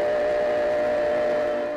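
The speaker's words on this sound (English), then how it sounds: "There's a train cutscene." A steady, sustained train whistle from a Final Fantasy VII train cutscene, a continuous tonal blast held for the whole moment at fairly loud level, with rumbling beneath and no talk.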